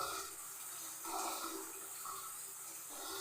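Water runs and splashes steadily during a bath in hot weather, a broad continuous wash of moderate loudness with slight surges, and no talking over it.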